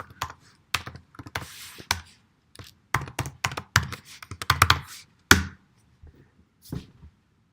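Keys clatter on a computer keyboard as a username is entered during a Git command-line session, with quick irregular bursts of close, crisp taps and short pauses between them.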